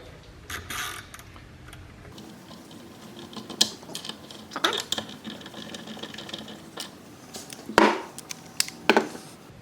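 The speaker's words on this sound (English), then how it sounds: "I went ahead and upgraded myself to this fancy gear wrench, torque wrench" Ratcheting gear wrench and torque wrench tightening 7/16 ARP 2000 rod bolts on an LS engine: close, sharp mechanical clicks and ratchet bursts in irregular clusters over a quiet workshop background, with no talking.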